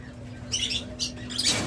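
Caged farm birds such as lovebirds, cockatiels, doves and budgerigars give a few sharp, close squawks and chirps in short bursts over a quiet background hum.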